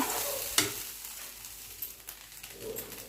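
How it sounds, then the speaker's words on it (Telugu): Leftover ajwain rice with coriander is stirred in a pan with a faint sizzle, and a few soft scrapes and clinks of the spoon sound close by. "ఇప్పుడు కొత్తిమీర వేసుకొని కలుపుకోవాలి"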